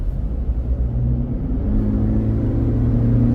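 A Toyota Fortuner SUV accelerates steadily on the road, its engine and tyre rumble loud and continuous from inside the cabin, the drone rising slightly in pitch as speed builds.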